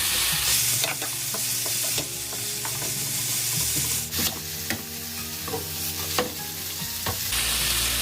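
Julienned potato stir-fries over medium heat, a continuous crackling sizzle broken by repeated sharp scrapes and taps of a utensil against the pan at an uneven pace.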